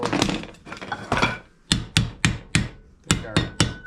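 Sharp hammer blows on metal while fitting sheet metal for a rocket stove, about nine strikes, with rapid clinking taps at first and then spaced, ringing whacks, close and loud.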